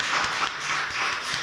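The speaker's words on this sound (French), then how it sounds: "On les applaudit." Audience in a church applauding newcomers at a Sunday service, a dense, steady wash of many hands clapping throughout, fairly close and loud, with no talking.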